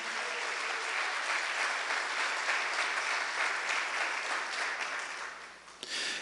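A church congregation applauds together in one sustained burst of dense clapping that stays steady for about six seconds before tapering off near the end.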